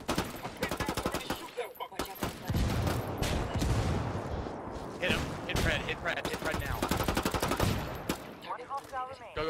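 Rapid bursts of automatic gunfire and single shots from a shooter video game crackle almost continuously, loud and close, with players' voices shouting in between.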